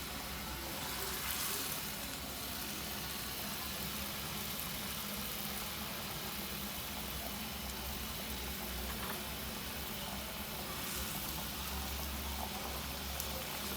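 Gravy with besan khandiyan added comes to a boil in a pot, giving a steady broadband bubbling hiss that stays even and fairly faint throughout.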